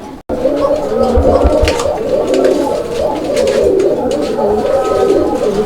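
Domestic pigeons at a market stall in Bangladesh coo continuously and close by, a low rolling warble that layers over itself with soft crowd chatter behind.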